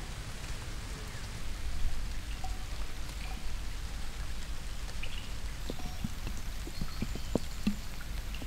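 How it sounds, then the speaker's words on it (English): Rain falls outdoors at a muddy dig site, a steady soft patter of drops hitting surfaces with occasional louder nearby drips, heard alone without any talking. "I didn't come prepared for the rain."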